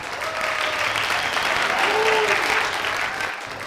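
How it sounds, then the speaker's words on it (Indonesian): Studio audience at a campus podcast applauding a guest, a campus head and doctor, in a dense, even burst of clapping that stays steady for a few seconds and fades at the end, with faint voices underneath. "Tepuk tangan buat"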